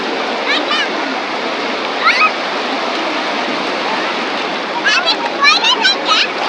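Children splashing and playing in sea waves at Kuakata beach, steady roar of surf throughout with bursts of splashing and playful shrieks, and voices heard over the water.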